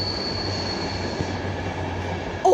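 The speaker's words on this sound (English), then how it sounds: "it's like one of those royalty trains" A royal train runs past a station platform, a steady close rumble of wheels on rails with a faint high squeal, ending in a sudden louder burst.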